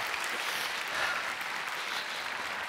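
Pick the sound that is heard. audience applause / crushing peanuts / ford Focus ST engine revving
audience applause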